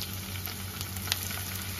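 Chopped tomato hits hot oil over fried onion in a pan, producing a steady, close sizzle and crackling hiss with a few small pops, no voices.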